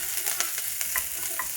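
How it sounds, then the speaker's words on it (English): Onions, garlic and ginger sizzling in a Nutri Ninja multi cooker pot for beef stew, a bright close hiss with several crisp stirring scrapes, no voices. "I put in some onions and some garlic and ginger."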